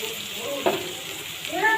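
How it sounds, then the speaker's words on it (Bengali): Onion, green chili, grated ginger and garlic fry in a pan with a steady close sizzle, broken by brief scraping stirs of a spoon. "এবার দিয়ে দেবো গ্রেট করে রাখা আদা রসুন"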